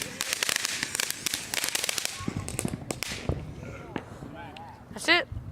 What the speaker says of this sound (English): We're just lighting up fireworks right now.